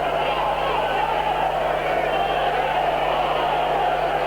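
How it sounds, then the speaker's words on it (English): Steady, dense murmur of a football stadium crowd at Leeds United's home League Cup second-leg tie against Leicester City in 1990, a restless roar with no breaks across the whole stretch. "As the crowd continue to get a little bit more impatient"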